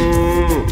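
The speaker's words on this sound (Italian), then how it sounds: "Ma c'è la mucca là." A cow in the PS1 video game The Emperor's New Groove lets out a loud, sustained moo that fills the whole moment, with no talk over it.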